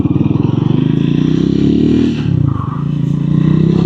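Triumph Scrambler 400X motorcycle engine downshifting into first gear, loud and close, its steady pulsing thrum dipping briefly mid-shift before settling back into a lower, even throb.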